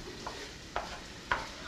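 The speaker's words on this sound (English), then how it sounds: "You just take this tool, and you just simply, just with a little bit twist of your wrist, grind it up into little pieces." Ground meat for chili being broken up in a pan with a twisting chopper tool, three soft scraping strokes close by with faint sizzling between them.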